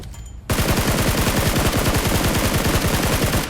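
Rapid automatic gunfire in the PUBG Mobile game cuts in suddenly and continues as a fast, even stream of shots, loud and close, with no talking.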